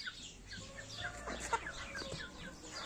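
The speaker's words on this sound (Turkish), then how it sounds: "Bu Plymouth yavruları ilk defa toprağa bastırıyoruz." Young Plymouth chicks set down on garden soil for the first time, a quiet scatter of soft repeated cheeps and chirps close by with faint background ambience.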